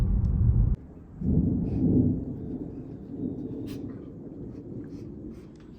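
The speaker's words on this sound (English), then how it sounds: "Thunder's rolling." Thunder rolling over high-country terrain, a loud low rumble that cuts off abruptly, then returns in a second heavy roll before fading into a softer lingering grumble with faint outdoor noise.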